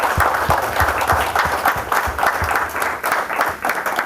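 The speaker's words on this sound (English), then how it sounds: "Let us give a big clap to the panelists." Audience applause for the panelists at the close of a public panel discussion on why nations fail, with dense steady clapping and a few louder individual claps standing out near the front, sustained throughout.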